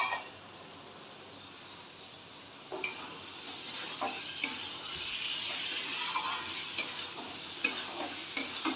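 Chicken pieces going into a pan of cooked-down spice masala for a jackfruit curry: a quiet start, then a loud burst of sizzling frying with repeated scraping stirs and clicks of a spoon against the pan.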